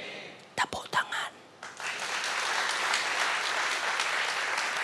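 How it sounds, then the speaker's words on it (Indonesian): A church congregation breaks into applause during a sermon: a few loud, close claps first, then steady, dense clapping from the crowd that lasts to the end. "Tepuk tangan."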